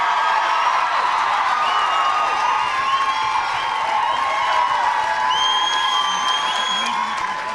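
A stadium crowd at a 2023 Women's Six Nations rugby match between Scotland and Ireland sends up loud, continuous cheering, whooping and whistling that stays steady and full throughout.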